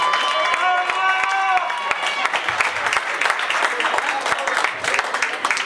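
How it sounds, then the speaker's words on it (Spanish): A party crowd at a birthday celebration claps and cheers loudly and continuously, with dense rapid applause, whoops and a musical tone fading under it at the start. "Y quiero que todos, por favor, le regalemos un fuerte aplauso"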